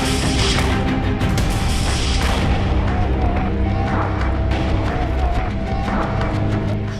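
An ambush attack on an Israeli tank: loud, continuous rumbling blasts and booming detonations with sharp cracks of gunfire scattered throughout, dense and overwhelming, no voices over it.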